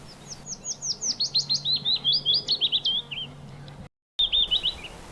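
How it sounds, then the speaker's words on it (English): A willow warbler sings in a Cornish spring, a clear, liquid descending warble repeated as a phrase, close and prominent, with a brief break before the song resumes. "The melodious, liquid, gentle descending warble of the willow warbler."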